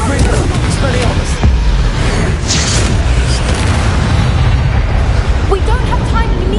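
The Confringo blasting spell detonates in a wizard video game with a loud, sustained booming roar, debris crackling throughout and a sharp burst partway through. A voice talks over it.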